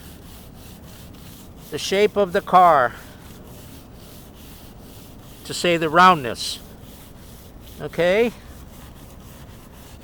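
A sanding block rubs up and down over a car body panel during feathering work, soft rasping strokes heard faintly between bursts of a person talking.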